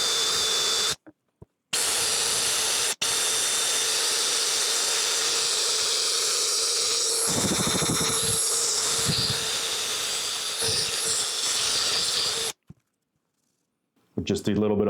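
A power buffer runs loud and continuous with buffing compound, a dense whirring roar that shifts in pitch as pressure changes, cutting out briefly a few times before starting again close by.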